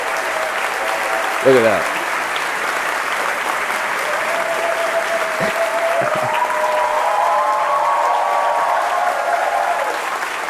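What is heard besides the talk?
crowd applauding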